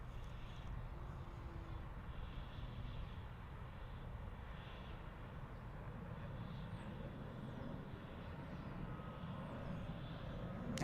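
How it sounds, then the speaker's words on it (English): An Embraer E175 airliner departs DFW airport with a steady, broad engine roar. The noise holds evenly throughout at a moderate distance, with no talking. "Looks like we had a 737 action."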